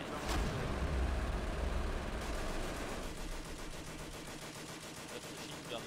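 Machine gun fire from the strategy game Company of Heroes comes as a rapid, steady stream of shots over a loud battle din. The firing grows clearer and more regular in the second half.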